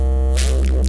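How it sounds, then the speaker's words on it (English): Synth bass from a drum and bass sample pack, a loud sustained low tone with buzzy harmonics and a brief gliding sweep near the end, close and alone. "So basically the bass sounds like this."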